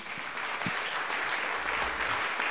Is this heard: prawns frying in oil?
no